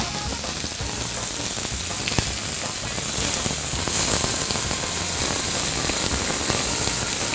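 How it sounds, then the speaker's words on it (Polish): Pieces of pork tenderloin sear in a hot pan on maximum heat, giving a loud, continuous hiss and crackle of sizzling fat that stays steady throughout. "wrzucamy mięso i na maksymalnym ogniu przez minutę z każdej strony obsmażamy kawałki polędwiczki"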